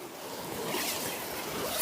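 A zipper on a Nightcat three-person pop-up tent being drawn, a continuous rasping slide lasting nearly two seconds at close range, with no voices.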